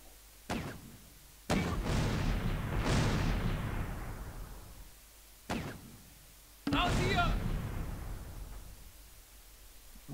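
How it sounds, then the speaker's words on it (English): Tank cannon fire in the Close Combat war game, a WWII Ardennes battle with Shermans and Panthers in snow: several heavy booming shots with long rumbling tails, some overlapping, loud and close. "with all that cannon fire"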